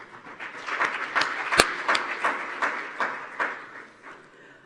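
An audience at a talk on women in international trade applauds, producing a moderate, continuous patter of clapping with a few sharper claps that swells and fades away over several seconds.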